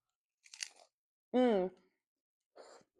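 A crunchy Taco Bell taco with a soggy bottom and a still-crisp top is bitten, giving two short, dry crunches, close and moderately loud, with a brief voiced sound between them.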